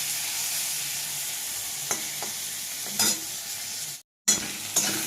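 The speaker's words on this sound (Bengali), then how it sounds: "আমি একটু ভালো করে ভেজে নিই।" Bitter gourd, chopped tomatoes and other vegetables fry with panch phoron and a chili in a pan, a steady close sizzle punctuated by a few scraping stirs and one brief break, with no talking.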